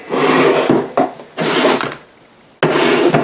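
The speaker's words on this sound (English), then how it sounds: "It has all of these little drawers to keep things in." Small wooden drawers of a dressing table sliding open and shut, three loud scraping rubs with brief knocks between them, very close and without talk.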